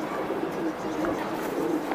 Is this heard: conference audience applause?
no